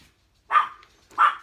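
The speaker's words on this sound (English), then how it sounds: "my little puppy is welcoming him" A small puppy greeting someone arriving home gives two quick, sharp yips about half a second apart, close by and fairly loud against near silence.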